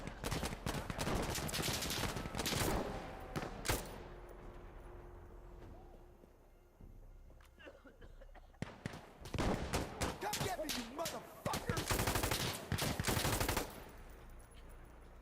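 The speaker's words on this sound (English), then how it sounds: "Is he shooting at me?" Video game gunfire: bursts of rapid automatic shots crackle in dense clusters at the start and again near the end, with a quieter lull between.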